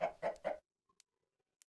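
Chickens in the Minecraft video game give three quick, evenly spaced clucks, clear and close, followed by near silence broken only by a few faint clicks.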